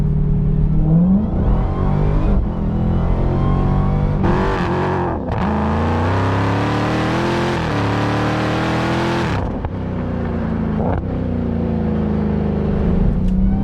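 A 2020 Dodge Challenger Hellcat Redeye Widebody's engine revs hard and continuously on a winding mountain road, rising and falling in pitch through gear changes as it climbs, loud and close throughout.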